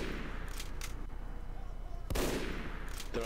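In Team Fortress 2, sniper rifle shots ring out on Control Point Gorge: a few sharp cracks over steady game noise, with one louder blast near the end.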